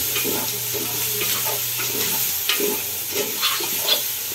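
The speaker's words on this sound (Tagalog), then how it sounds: "Lagyan natin ng toyo. Dagdagan ng toyo. Ayan. Tapos, haluin." Beef for pares stirred in a pan with soy sauce, a steady close sizzle broken by scraping stirs and clinks of the utensil throughout.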